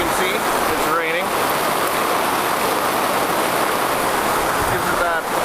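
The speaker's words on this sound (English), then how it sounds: "as you can see, it's raining" Steady hiss of rain falling continuously at an outdoor Renaissance fair, with a few faint voices drifting in and out in the background.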